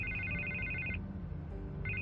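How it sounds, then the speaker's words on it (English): A telephone ringing in the Batman: The Telltale Series game, an electronic ringtone trilling in a steady burst, pausing, then starting again, clear over a low background hum with no talk. "I can't get the phone to stop ringing."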